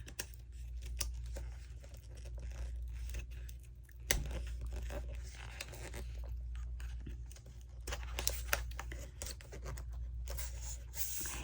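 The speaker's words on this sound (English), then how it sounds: "So that's why I'm trying to cut these strings." An X-Acto knife saws and picks at tight book-binding strings, producing close, quiet scraping, crinkling paper and small tearing snaps in an uneven rhythm with a sharper pop partway through.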